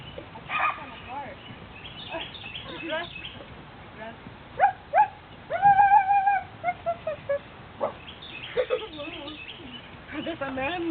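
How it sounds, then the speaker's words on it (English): Outdoors by a tree house, a dog gives a string of sharp, close barks and yips scattered through several seconds, mixed with people chattering and calling out. "That's a manly bark."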